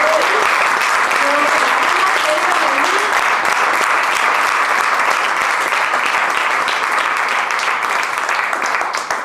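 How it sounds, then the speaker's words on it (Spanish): Loud, continuous applause from an audience at a political talk, a thick steady roar of clapping lasting about nine seconds, with some cheering voices at the start. "Así que un aplauso a todas las personas que estén hoy."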